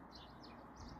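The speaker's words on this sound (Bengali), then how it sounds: "ওই গোলাপ গাছে অনেক অনেক চড়ুই পাখি আছে।" Many sparrows chirp in a rose bush on a spring day in France: faint, scattered high tweets over a soft, steady background hiss.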